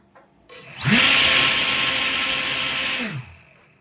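A cheap 8-inch orange propeller on an RC motor revs up to about 16,000 RPM, giving a loud, close, high-pitched whirring whine that holds steady for about two seconds before spinning down.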